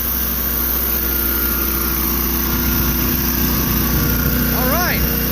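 A Honda small engine drives a power washer, running steadily and loudly close by with a constant drone throughout; a short whistle-like rising tone appears near the end.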